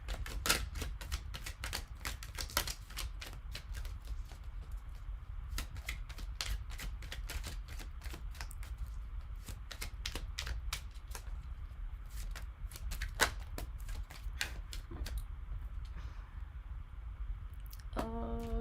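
Oracle cards shuffled by hand in long runs of quick riffling flicks and soft slaps, close and quiet against a faint room hum, with no voices.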